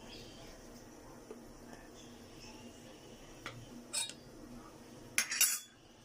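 A spoon stirs turmeric, salt, chili, coriander and cumin powders together in a metal bowl for aloo biryani, making soft scraping sounds and a few sharper clinks near the end.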